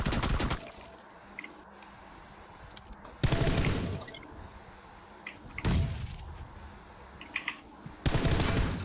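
Gunshots in the shooter PUBG Lite ring out as four sharp, loud reports spaced a few seconds apart, each with a short ringing tail, separated by quiet ambient stretches.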